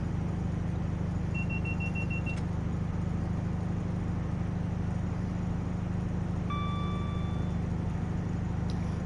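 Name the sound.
train accelerating at full throttle in Train Sim World 5 video game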